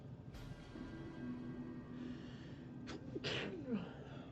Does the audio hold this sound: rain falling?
no